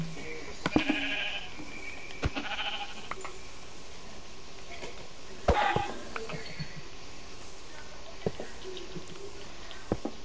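Sheep in the Minecraft video game bleat in several short, separate calls scattered through a quiet, faint background.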